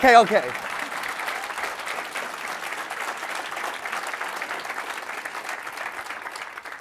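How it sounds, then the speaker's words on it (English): Audience applause at a trading talk, a steady wash of many hands clapping from a seated crowd after a brief voice at the start, even and moderately distant. "I'll take applause first."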